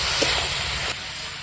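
Spice paste of ginger, tomato and garam masala frying in a pan for a village-style hot spicy mutton dish, a steady loud hissing sizzle with a faint knock early on, easing slightly near the end.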